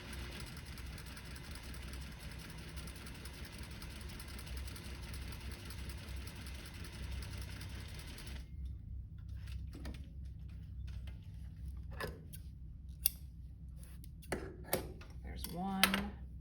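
A home sewing machine runs at a steady hum while stitching a neckline facing at regular stitch length, a continuous mechanical whir that stops partway, followed by soft handling clicks and rustles.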